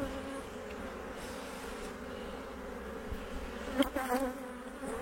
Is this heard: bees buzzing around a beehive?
yes